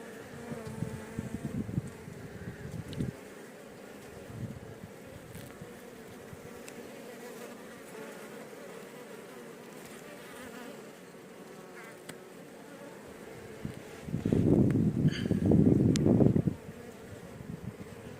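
Honeybees buzz in loud bursts close to the microphone at a hive during swarming, fading to quieter stretches between, with light wind noise.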